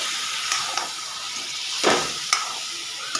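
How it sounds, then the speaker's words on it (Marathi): Jackfruit pieces fry in a pan over a gas flame for a spiced Maharashtrian vegetable dish. A soft, steady hiss and sizzle runs throughout, with a few stirring scrapes and one louder burst of steam near the middle. "फ्राय करून घ्यायची आता तुम्ही गॅसची फ्लेम हवं तर मीडियम करू शकता"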